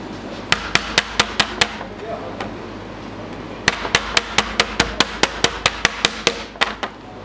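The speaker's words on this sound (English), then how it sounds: "I'm just going to beat it with a chocker hammer again." A chocker hammer strikes a double-hook fishing trace in quick sharp metallic taps, one group of about six, a pause, then a longer run of evenly spaced blows over a low background hum.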